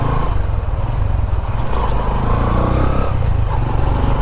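A Honda Hornet CB 125 motorcycle riding slowly, its engine a steady close rumble with road noise throughout and no talk.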